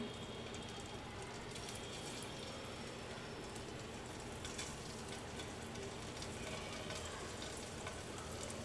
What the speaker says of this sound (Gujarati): ઘી ગરમ સરસ થઈ જાય એટલે પનીર મૂકી દઈશું આપણે. સેલો ફ્રાય કરવાના છે.